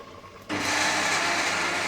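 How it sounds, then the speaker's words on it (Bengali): Rice flour and wheat flour boil together in a pot of water. After a quiet half-second, a steady, loud broadband hiss starts abruptly and holds evenly to the end. "আটা সিদ্ধ করতেছি আমি এখন"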